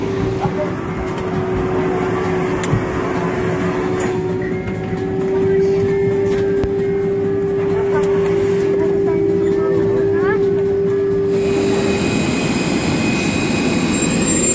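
A passenger jet engine whines steadily after landing in Jakarta, a sustained close hum with rumbling cabin noise beneath and voices talking over it throughout.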